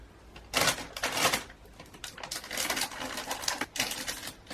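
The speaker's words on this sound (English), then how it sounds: "So I'm going to use my scissors for this." Scissors cut open plastic lollipop wrappers close by, giving crinkly snips and rustling crackles in irregular bursts that vary in loudness, with no talking.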